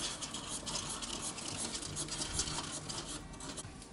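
Orange-tinted epoxy resin is stirred in a cup with quick, soft scraping strokes that repeat in an irregular rhythm, close by and fairly quiet, with no voices.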